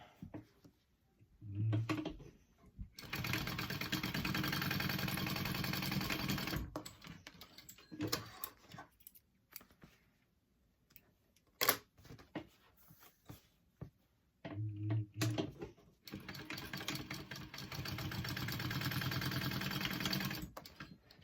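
A sewing machine bastes down the edges of a fabric hip bag in bursts: two long continuous runs of fast stitching separated by short stops, start-stop spurts and quiet handling sounds.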